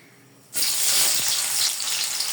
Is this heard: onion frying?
yes